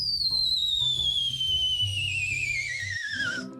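A person's signature whistle: one long, loud, steady tone that glides slowly downward in pitch over several seconds, with a faint background hum and a musical bed underneath.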